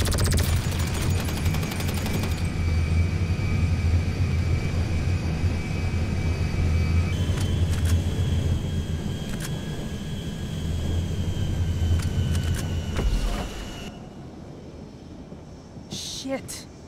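A steady, loud airplane engine drone inside Grand Theft Auto 5, continuous for most of the stretch before easing off near the end, with a voice talking over it.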